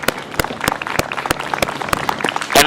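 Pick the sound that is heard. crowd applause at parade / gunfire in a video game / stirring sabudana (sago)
crowd applause at parade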